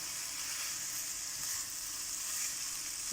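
Aloo bhaji with green chillies frying in a pan, a steady close hiss and sizzle with faint stirring movement throughout.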